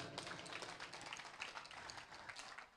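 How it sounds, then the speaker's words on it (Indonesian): Audience applause for a wife being honored during a motivational talk to school students, a steady dense patter of many hands clapping throughout, fairly faint and distant, with no voices over it. "Tepuk tangan buat istri saya."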